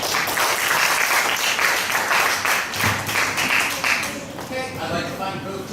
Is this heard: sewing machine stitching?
no